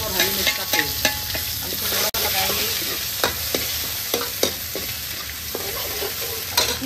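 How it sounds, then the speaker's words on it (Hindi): Bay leaf, ginger and green chilli frying in hot oil, a steady dense sizzle with repeated stirring scrapes and clinks of a utensil against the pan, close and continuous. "तेल गर्म है, और ये गया हमारा तेज पत्ता, ये गया हमारा अदरक और हरी मिर्च"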